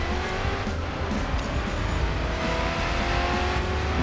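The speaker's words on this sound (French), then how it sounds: "je suis obligé de partir un peu en drift" A car drifts in the mobile racing game Racing Master, its engine roaring continuously under a broad, steady tire-skid hiss, loud and close with no pauses.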